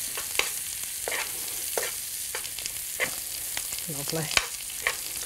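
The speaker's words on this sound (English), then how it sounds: "You can sort of see the fish cooking at the side there" Mackerel fries in a pan with bacon fat and oats, a continuous close hiss with occasional small pops and soft scrapes.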